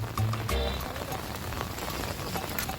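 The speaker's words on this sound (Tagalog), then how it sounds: "Umuulan kasi mga kabosing oh." Rain patters steadily on a surface in the Philippine countryside during mud crab hunting, a dense crackling hiss with a few louder knocks early on.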